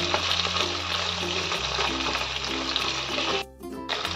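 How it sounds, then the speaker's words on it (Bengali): Sliced okra fries on a medium flame in a pan, a dense, loud, continuous sizzle heard up close, briefly dipping near the end before resuming, with no talking. "ভিন্ডিগুলোকে আমি মিডিয়াম ফ্লেমে ভেজে নেব।"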